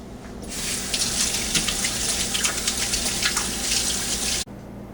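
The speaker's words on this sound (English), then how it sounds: "I'm going to wash my hands" Tap water runs steadily into a sink while hands are washed in a kitchen, a close, continuous splashing gush lasting several seconds before it cuts off abruptly.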